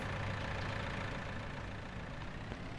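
A mid-segment tractor idling in Farming Simulator, a steady low engine rumble holding an even level throughout without revving.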